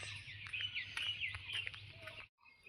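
Birds chirping and calling at a homemade wooden birdhouse, a busy run of bright, overlapping calls over a low background hum, ending abruptly.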